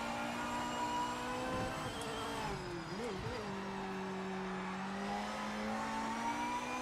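A race car engine in the Project Motor Racing video game drones and revs steadily, its pitch wavering and dipping midway before climbing again, with faint talk underneath.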